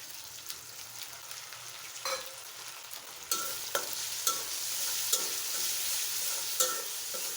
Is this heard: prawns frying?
yes